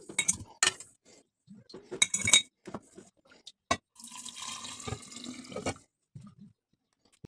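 Water is poured into a glass jar while kvass is being made in a home kitchen, with light clinks of glass and utensils first and then a steady splashing pour lasting a couple of seconds.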